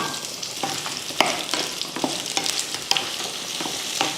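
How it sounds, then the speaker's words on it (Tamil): Onions, garlic and chillies fry in a pan for chutney, a bright steady sizzle broken by frequent sharp scraping clicks of stirring, close and loud. "2 பெரிய வெங்காயமும் ஒரு 4-5 பூண்டு பல் எடுத்திருக்கேன், அதையும் சேர்த்துடலாம்."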